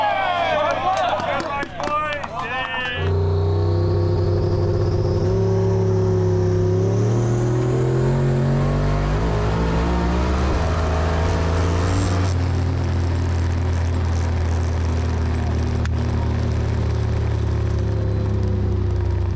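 Drag race cars, a Nissan S15 and a Barra-engined car at a Tuner's Edge two-wheel-drive shootout, roar loudly with engines rising in pitch through the run, a commentator talking over the steady engine noise.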